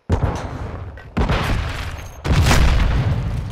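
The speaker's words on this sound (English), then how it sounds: "Throwing flash grenade!" A flash grenade goes off in Call of Duty MW3, a loud close boom with dense crackling bursts following in two heavy waves.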